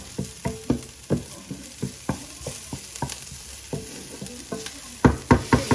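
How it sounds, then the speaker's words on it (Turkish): Onions sautéing in a pan for a beef and celery dish, a soft sizzle under repeated scraping and stirring strokes of a spoon, quickening toward the end. "Şu an soğanını kavurmak üzereyiz. İyice böyle pembeleşinceye kadar kavruluyor."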